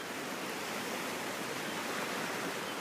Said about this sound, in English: Feel the presence of the ocean, the waves, and this beautiful sound